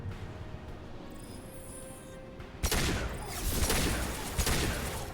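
Gunfire in the sci-fi shooter Mass Effect 2, a quiet hum with a faint whine that breaks into a loud, sustained volley of shots lasting the final couple of seconds.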